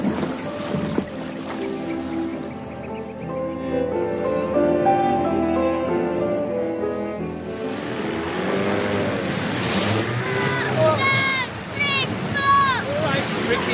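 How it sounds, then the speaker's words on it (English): A boat's outboard engine runs loud and steady in a radio drama, its drone mixed with wind and water noise, and whistling tones appear toward the end. "That's the engine, too loud."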